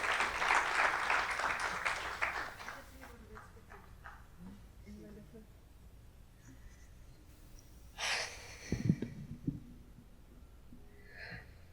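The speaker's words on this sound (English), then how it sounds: "A big round of applause for her," An audience claps for a few seconds, a brief burst of applause fading out, followed by quiet breathing, sighs and other faint sounds near the microphone.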